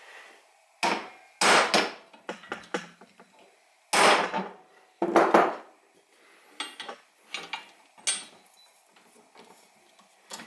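Metal pipe slumped over the edge of a workbench takes a series of irregular, sharp knocks and clanks, several heavier strikes among lighter taps, close and fairly quiet, with no speech.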